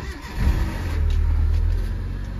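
A car engine catches on a cold start with a short crank burst, then settles into a steady, close, even idle hum.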